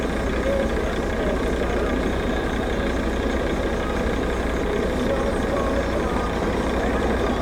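Learner truck pulling up on a category C driving exam course, its diesel engine a steady close rumble with constant broadband road and engine noise throughout.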